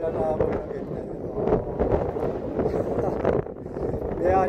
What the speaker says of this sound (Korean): 바람이 좀 세차서 제 목소리가 들리려나 모르겠네요